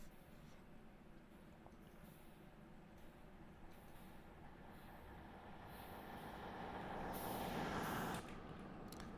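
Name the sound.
approaching train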